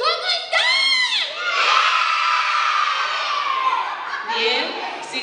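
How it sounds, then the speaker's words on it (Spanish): A crowd of children at a parish clown show shout loudly in unison in reply, a sustained roaring cheer of young voices lasting several seconds, with a brief adult voice at the start. "sí, gritan muy fuerte"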